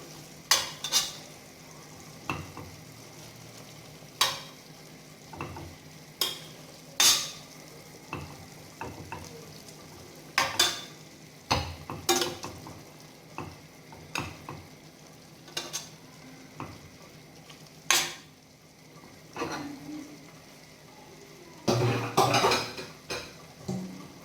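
Onions fry in a pot after the chicken is taken out, a faint steady sizzle punctuated by frequent sharp clinks and scrapes of a utensil stirring against the metal pot.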